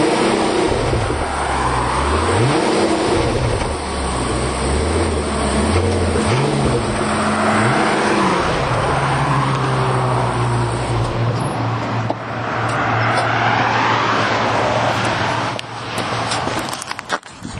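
A 2021 Rolls-Royce Ghost hums and swells as it passes, with shifting revving tones and broadband road noise, fairly loud throughout.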